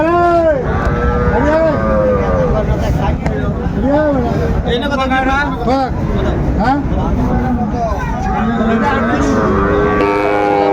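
Sahiwal bull calves at a busy Chuadanga cattle market moo loudly again and again, the long drawn-out calls overlapping amid a constant babble of nearby voices.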